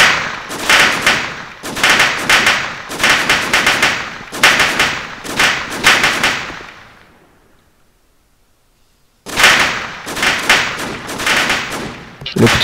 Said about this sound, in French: Il y a des coups de feu qui me viennent dessus.